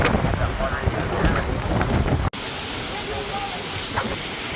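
Rushing water at a waterfall, a loud broad roar buffeted by wind against the microphone, with a sharp cut partway through before the steady rush resumes slightly quieter.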